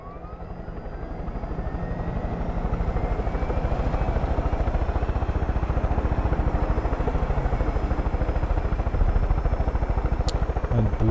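Helicopter flying in the video game Far Cry 5, a steady close rotor chop with a rapid even pulse and engine whine, growing slightly louder then holding constant, with occasional faint talk over it.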